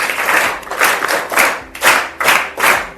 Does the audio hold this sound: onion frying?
no